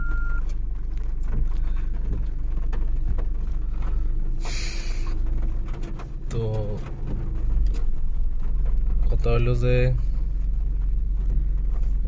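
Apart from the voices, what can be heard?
car being taken out and driven in the rain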